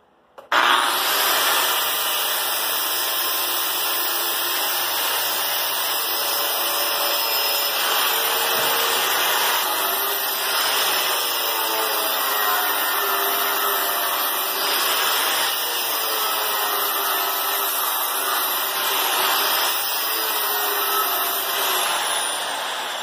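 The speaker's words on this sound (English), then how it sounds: "Use a flat disc on the grinding wheel, or on the angle grinder, to get some of the paint off so I can weld to it." Angle grinder fitted with a flat disc stripping paint or powder coat from a steel plate being prepped for welding, a loud steady abrasive whine with a rough scraping texture that runs continuously and close for the whole stretch, with no talking.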